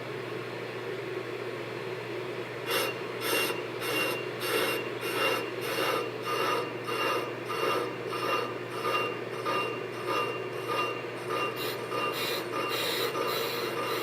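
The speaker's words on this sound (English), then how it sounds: "and then we're going to turn the lathe on." Brake lathe cutting a brake rotor: a faint motor hum, then a rapid series of evenly spaced rasping scrapes as the bit passes over the spinning rotor surface, steady and close, no voices.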